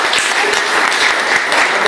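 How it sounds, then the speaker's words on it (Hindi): An audience at a seminar claps loudly and continuously, a dense, even patter of many hands filling the short stretch without any talk. "आदरणीय शैलेंद्र धिंगड़ा जी, एक बार जोरदार ताली चाहते"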